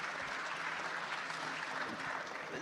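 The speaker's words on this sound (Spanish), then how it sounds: "Podríamos aplaudir por eso." Audience applause at a Bitcoin conference in a large hall, dense and steady clapping from a big crowd that fills the whole stretch without pause.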